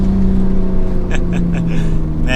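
A 600 whp Toyota Supra wide body with its engine held at a steady, loud drone and a few brief throttle blips rising over it, heard close from inside the car.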